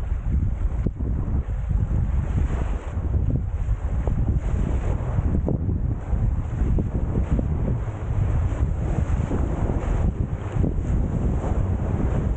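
Ocean surf washes onto a shore where logs have been piled against the incoming water, with wind buffeting the microphone; a continuous roaring wash of breaking waves and gusts, close and fairly loud, with no voices.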